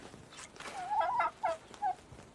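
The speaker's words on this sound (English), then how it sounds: "The first three are female turkeys." Turkeys, a red-wattled male with three hens, gobble in a short burst of warbling calls, several rapid rattling notes rising over about a second, then two briefer gobbles, fairly close and alone without talk.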